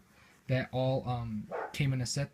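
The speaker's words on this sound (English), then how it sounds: "That's my dog. Just ignore him." A pet dog barking and whimpering indoors during a storm, short yelping barks mixed in with a person talking over them.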